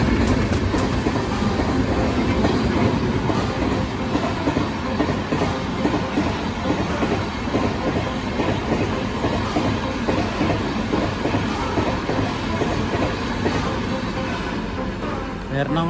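A train at an Indian railway station near Ernakulam, steady loud rolling rumble with clickety-clack of wheels on rails throughout, people talking in the background.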